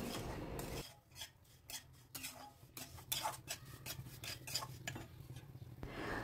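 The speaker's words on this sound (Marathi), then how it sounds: "साजूक तुपात मंद आचेवर रवा हळूहळू छान भाजून घेतला" Semolina roasts slowly in ghee over a low flame, stirred with a spoon that scrapes and clinks against the pan in a steady, repeated rhythm, close but quiet.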